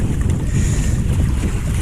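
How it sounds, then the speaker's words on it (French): Wind gusting steadily over open water while sailing a sport catamaran through a shallow channel at Baie-Mahault, with loud continuous wind buffeting on the microphone and low water rumble, no talking. "le vent se lève un peu, c'est sympa"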